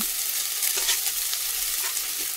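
Ginger and green chili hit hot oil in a pan for a fish kalia, giving a steady, close, bright frying sizzle that holds evenly for a couple of seconds with faint stirring.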